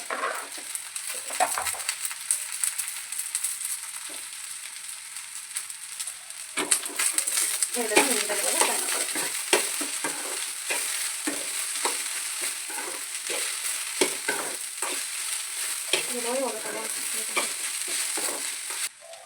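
Okra stir-fry (bhindi palya) frying in a pan, with steady broadband sizzle and repeated scraping, clattering stirs throughout; a quiet voice talks intermittently underneath.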